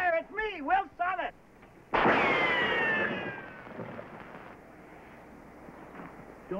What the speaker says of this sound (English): whoever's doing that shooting